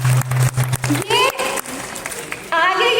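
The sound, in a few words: audience applause at a cosmetics training workshop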